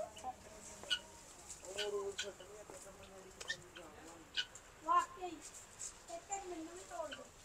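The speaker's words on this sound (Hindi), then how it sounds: "ये देखें वाइट मुर्गी" Chickens cluck in short, irregular bursts nearby while a person talks over them, with a few sharper calls standing out.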